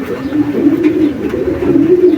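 Racing pigeon cooing inside a Saudi loft, a close, loud, throaty series of low rolling coos repeating without pause through the short stretch, with no talk over it.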